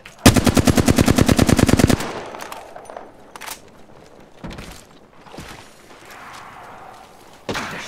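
A rapid automatic burst of video game gunfire opens loud and close for about two seconds, followed by scattered single shots, thuds and softer distant impacts, then another sharp blast at the end.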